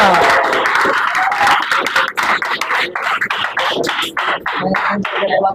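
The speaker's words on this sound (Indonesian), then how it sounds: "Aplaus untuk kita semua." Students in a classroom clap together, a loud burst of applause that thins into scattered claps toward the end, with voices mixed in.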